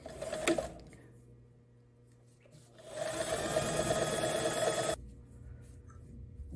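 A sewing machine edge stitches a wide-leg pant seam with two bursts of close, steady whirring, a short one first and then a longer run of about two seconds.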